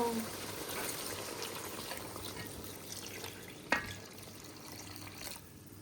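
Water pours steadily into a pot of Bombay duck fish curry with a splashing rush, and a clink sounds near the end before the flow stops.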